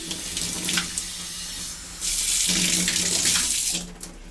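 Water runs from a tap into a basin, a loud close gushing that rises and falls as the flow is adjusted, with no voices.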